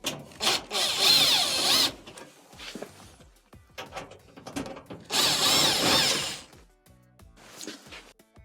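A power drill ratchets and whirs in repeated bursts as it backs Phillips machine-thread screws out of a dryer cabinet, loud and close, with clicks and scraping between the runs.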